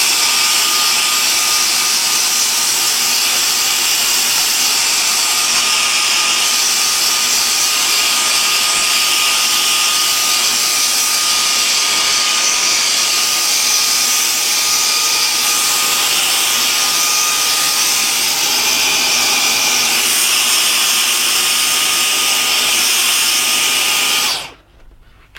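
A vacuum cleaner sucks dust out of a machine around a fan, giving a loud, steady, high whine that holds unchanged for over twenty seconds before cutting off abruptly at the end, close by with no talk.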